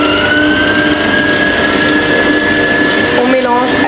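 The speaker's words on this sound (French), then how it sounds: "On mélange à vitesse moyenne." Stand mixer fitted with a dough hook kneading baguette bread dough at medium speed, a loud continuous motor whir with a steady tonal hum and slight wobble near the end.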